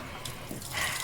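Hot tap water running into a sink, a steady broadband rush that swells louder toward the end, with no talk over it.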